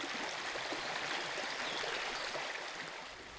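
Sucker Brook at the Hubbardton battlefield in Vermont flowing steadily, a dense, close rushing wash of water that holds even throughout and eases slightly at the end, with no voices.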